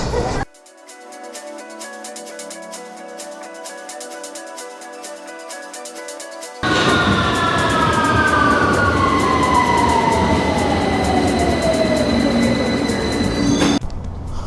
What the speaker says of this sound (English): there I was on the underground train heading down to Vauxhall